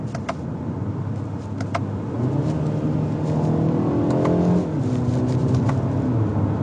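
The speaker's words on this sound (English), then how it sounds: "It even blips the engine on a downshift." A 2020 BMW 228i xDrive Gran Coupé engine revs up with quick rising blips on a downshift, then settles back, heard from inside over a low road hum.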